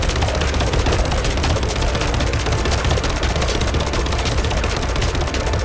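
Dense, relentless automatic gunfire from the video game Rise of the Tomb Raider, a loud continuous rattle of rapid shots with no pauses across the whole stretch and no speech.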